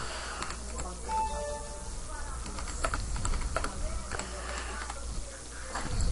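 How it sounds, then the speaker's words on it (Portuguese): Typing on a Razer Black Widow mechanical keyboard, rapid irregular clacking keystrokes close up, with someone talking over the clicks throughout. "eu tenho um Black Widow, que é um teclado da Razer"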